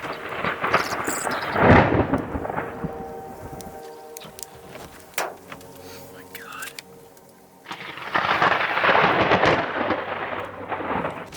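Rumbling thunder from a lightning barrage during a storm, heavy bursts of crashing noise at the start and end with a quieter patch between, under a voice.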